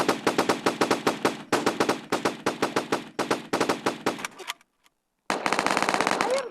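Rapid automatic gunfire in a Roblox version of PUBG: repeated close bursts of evenly spaced shots, a short silent gap, then another fast burst.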